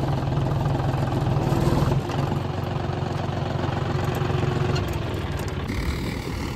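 A tractor engine runs steadily in a paddy field, a close, continuous low idle-like rumble with a slight shift in tone partway through and no talking.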